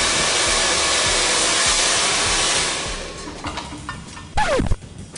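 A handheld hair dryer with a nozzle roars in a steady, close whoosh while blow-drying wavy hair straight, then cuts off partway, leaving brief handling noises.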